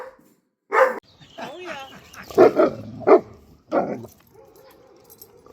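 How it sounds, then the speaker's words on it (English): A German Shepherd dog barks in loud, separate bursts, with other neighborhood dogs joining in. A person speaks briefly between the barks. "Now she's set off every dog in the neighborhood"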